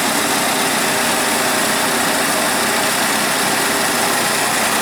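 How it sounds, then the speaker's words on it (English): A GM Iron Duke 2.5L four-cylinder engine idles with a misfire, giving a constant, loud mechanical churn with no voices. "That's the Iron Duke there, idling."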